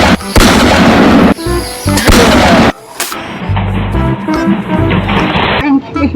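Loud bursts from a toy pistol fire in a couple of strong blasts during the first half, followed by busier, quieter toy noise, with a voice heard alongside.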